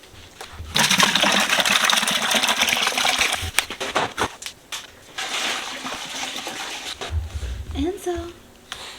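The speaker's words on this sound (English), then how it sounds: "let's get this bucket filled up with 4 gallons of vinegar." Vinegar pours into a bucket, four gallons filled for flushing a Rinnai tankless water heater: a gushing, splashing stream in uneven bursts, close by, with a voice speaking briefly near the end.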